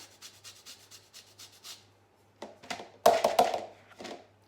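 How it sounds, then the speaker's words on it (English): Clementine zest rubbed over a grater, giving a run of soft, quick rasping strokes that turn louder and scratchier near the end, close up with no talking. "a grater because I'm going to grate the zest of this clementine just a little bit"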